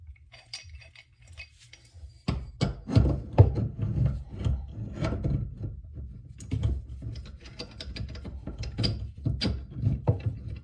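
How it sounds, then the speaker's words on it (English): A pipe wrench is adjusted and fitted onto a sink drain pipe during a slow-drain repair, with close metallic clinks, scrapes and rubbing knocks in irregular bursts. "So just keep adjusting that pipe wrench until you get it to fit."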